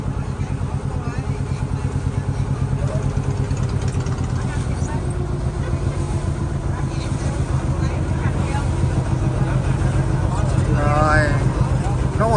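A fruit-selling boat pulls alongside at the Cái Răng floating market, its engine a steady close chugging drone throughout, with people talking over it.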